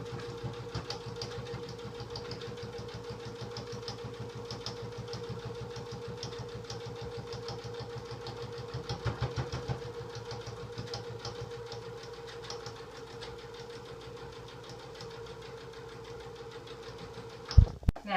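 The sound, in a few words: sewing machine stitching and back stitching a pillow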